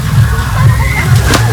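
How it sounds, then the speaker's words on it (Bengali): Water splashes and sloshes loudly as someone jumps into a pool at Aquatica water park in Kolkata, a continuous churning splash up close with a voice faintly beneath it. "তো এই পুলটাতে প্রথমে ও ঝাঁপ মারলো"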